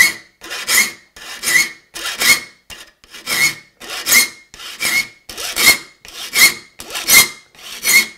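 A metal file rasps across handsaw teeth during sharpening, giving about ten evenly spaced, bright, gritty strokes, each a firm push followed by a short pause, close up and without speech.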